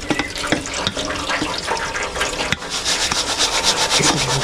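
Muddy water drains through a pan of soil during a clay content test, giving a steady, close rushing and trickling sound with scraping and rubbing noises throughout.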